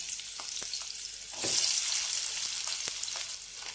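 Sliced onions, two large ones, frying in hot oil in a pan for an egg curry, giving a steady close sizzle that grows louder midway with a few sharp crackles and stirring clinks.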